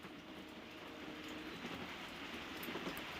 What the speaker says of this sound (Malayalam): ഗംഭീര മഴയാണ് പുറത്ത് കേട്ടോ.